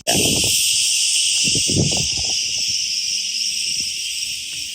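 Loud, continuous cicada chirring fills the air beneath an old olive tree, a bright shrill wall of sound from start to finish, with soft rustling and knocks beneath it.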